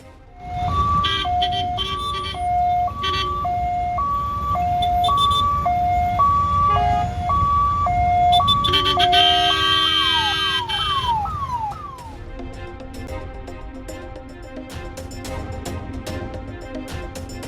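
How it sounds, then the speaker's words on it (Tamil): An ambulance stuck in a traffic jam in Tambaram, Chennai sounds a loud two-tone siren, alternating steadily between high and low pitches, then breaks into quick falling sweeps over a constant rumble of surrounding traffic. "சென்னை தாம்பரத்தில் போக்குவரத்து நெரிசலில் சிக்கிக்கொண்ட ஆம்புலன்ஸ்."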